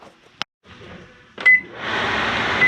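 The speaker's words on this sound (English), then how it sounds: "microwave that does have a high-low fan" A short beep, then a click as an over-range microwave's fan whooshes on and keeps running with a steady airy hum, inside a Jayco Greyhawk 30Z motorhome.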